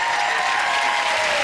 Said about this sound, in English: a big round of applause for our meerkat